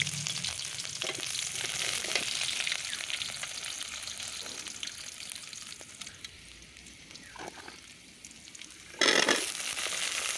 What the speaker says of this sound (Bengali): পেঁয়াজটা একটু লাল লাল করে ভাজা হয়ে গেছে